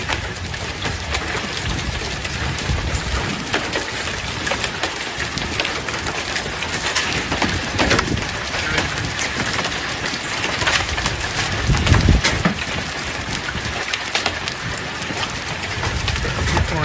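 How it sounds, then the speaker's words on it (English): Large hail pours down during a storm in Wilkie, Saskatchewan, a dense, constant roar of hard impacts over the whole stretch with no letup and no voices. "As far as the quantity of large hail."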